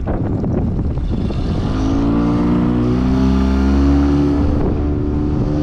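A 2001 Boulton inboard jet boat with a 5.7 engine cranks briefly, then fires up and settles into a loud, steady, rumbling idle close by.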